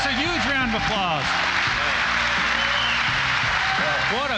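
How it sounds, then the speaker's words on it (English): Crowd applause at an engine builder showdown event, cheering and clapping underneath loud announcer talk over a public address system, with voices dominating the foreground. "You gets a huge round of applause."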